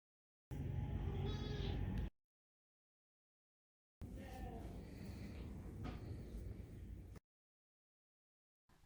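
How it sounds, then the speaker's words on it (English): A farm goat bleats in two separate calls, the first short and the second longer and wavering, each fairly close and alone with silence between. "A goat."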